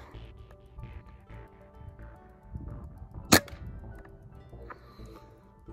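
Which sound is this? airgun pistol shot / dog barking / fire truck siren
airgun pistol shot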